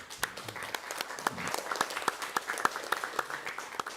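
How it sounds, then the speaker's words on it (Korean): Applause at a Korean political forum on election law reform, a small audience clapping in a sparse, uneven patter of distinct claps, fairly faint and thinning out over a few seconds. "큰 박수 부탁드립니다"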